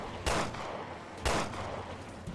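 Pistol shots in Resident Evil Revelations 2, two loud sharp cracks about a second apart with ringing tails over steady game background noise.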